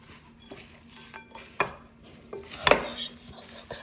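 Cinnamon and salt are mixed into granola in a bowl with a close, dry rustling and scraping, marked by sharp clinks of a utensil against the bowl.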